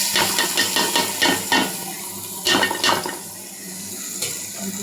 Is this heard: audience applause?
no